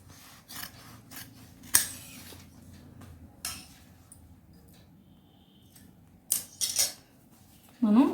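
Scissors cut fabric for a girl's uniform top in a few separate snips and crunching cuts, close and fairly crisp, with quiet pauses between them.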